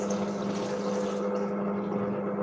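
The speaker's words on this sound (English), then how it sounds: "pour the milk into the margarine" Milk is poured into margarine while making a hot milk vanilla cake, a steady, close liquid stream running throughout over a low hum.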